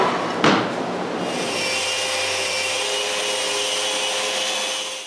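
Glued-up wood panels being sanded down to thickness in a woodshop: a machine kicks in after a brief knock, then holds a loud, steady, even roar with a faint hum underneath.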